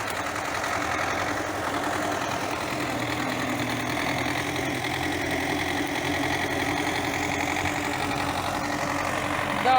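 A tractor engine runs steadily at idle, a constant low chugging rumble, close and fairly loud with no talking.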